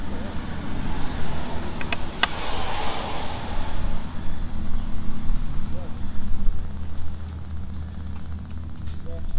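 A 6HP Mercury outboard engine runs steadily at idle close by, a continuous low droning hum with a few sharp clicks near the start.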